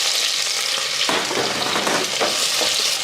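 Sliced onion frying in about 50 ml of hot coconut oil for a chicken curry, a loud, steady sizzle that jumps sharply when the onion hits the pan and then crackles on continuously.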